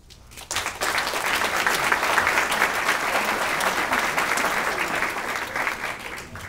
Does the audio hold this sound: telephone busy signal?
no